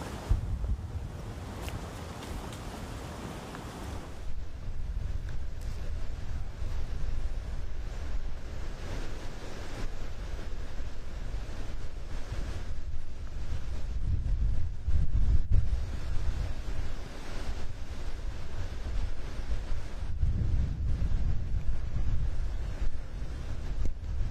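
Wind buffets and roars across an open disc golf course during a tournament final round, a continuous low rumble with gusts swelling and easing throughout.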